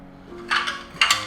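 Flat ceramic plates, the kind used for serving grilled fish, clink together in two short bright bursts of clattering crockery, fairly close and with no talking.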